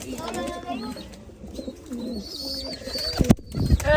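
Pigeons coo in low, rolling calls close by, with voices talking over them and a brief flutter or bump near the end.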